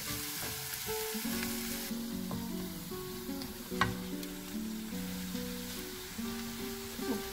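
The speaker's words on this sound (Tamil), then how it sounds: "இது ரெண்டும் நல்லா கிறிஸ்பி ஆகிற வரைக்கும் ஃப்ரை பண்ணிக்கோங்க" Garlic and dried prawns crisp up in a pan of oil, giving off a steady, even sizzle with a brief louder crackle midway, all under background music.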